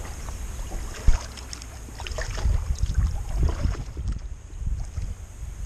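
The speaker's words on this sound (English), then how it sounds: "I'm just paddling down to the next spot I want to fish" A canoe paddled down the Ottawa River near Mattawa: soft water swishes and splashes from paddle strokes over steady wind rumble on the microphone, with a light knock early on.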